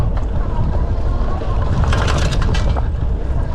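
A Lectric XP 3.0 e-bike rides over a bumpy outdoor section, with the rattle mixed into constant wind and road noise. A cluster of sharper rattling knocks comes near the middle.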